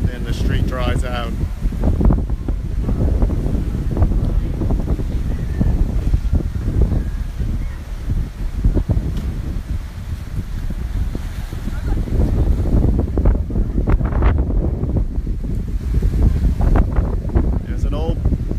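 Tropical Storm Cindy's winds roar and buffet the microphone in Old Mandeville by the lake, with floodwater washing ashore beneath a constant, gusting rumble.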